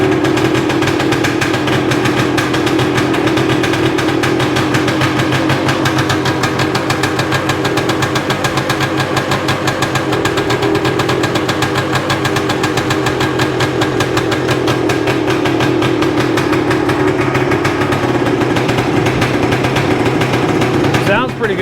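Cold 1978 Yamaha DT400E two-stroke motorcycle engine idling a little high, a loud, steady, rapid putter that runs unbroken close to the microphone.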